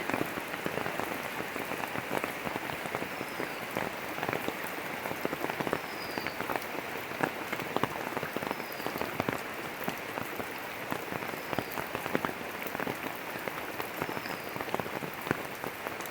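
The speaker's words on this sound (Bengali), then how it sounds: "আর বৃষ্টি পড়ছে বন্ধুরা তোমরা দেখেও বুঝতে পারছো যে বৃষ্টি পড়ছে" Steady rain pours onto a pond in a rural setting, a dense, continuous hiss and patter of drops hitting water and ground, even and unbroken throughout with no talk.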